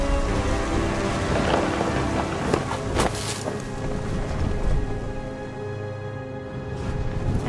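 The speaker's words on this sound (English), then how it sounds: "The thunder sounded much too close and full of angry power." Rain and rolling thunder from the video game What Remains of Edith Finch, with a steady loud downpour and a heavier thunder crack near the middle, over a faint musical tone.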